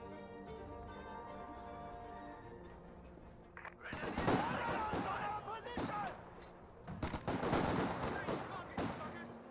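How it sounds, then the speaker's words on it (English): 81mm mortar fire in a Company of Heroes 2 battle: dense, crackling explosions and impacts erupt after a quieter stretch, loud and layered with other combat noise. "81mm mortars engaging the Pioneer to get some damage."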